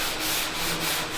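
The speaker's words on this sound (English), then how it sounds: "Neil's actually doing some sanding." Hand sanding on the bodywork of a 1965 Mustang Fastback, a close, steady rasping rub with a few rhythmic strokes in a little over a second.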